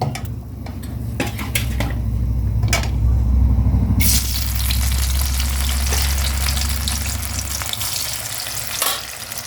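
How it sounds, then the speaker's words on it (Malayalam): Cut brinjal pieces deep-fry in hot oil with a loud, steady crackling sizzle, joined by clinks and scrapes of utensils against the pan. "ബാക്കി നമ്മൾ കട്ട് ചെയ്ത് വെച്ചിരിക്കുന്ന വഴുതനങ്ങയും കൂടെ ഇതേപോലെ ഒന്ന് വറുത്തു പോരാം"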